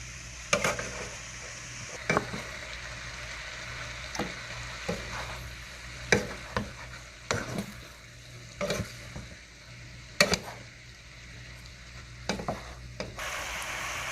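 Cabbage and sausages sauté in a pan, a steady sizzle running throughout with repeated sharp scrapes and clinks of a utensil stirring against the metal, close and fairly loud.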